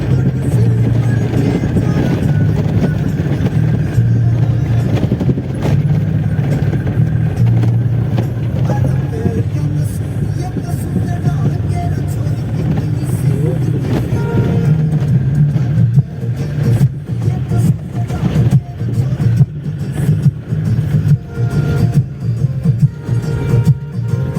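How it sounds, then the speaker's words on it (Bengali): A vehicle grinds along a rough, potholed mountain road toward Zoji La Pass in Kashmir. A steady low engine rumble persists throughout, with rattling jolts that grow choppier in the final seconds. "এই ফুকরো ফুকরো রাস্তার গাড়ির আওয়াজ নিতে নিতে চলি কিছুটা"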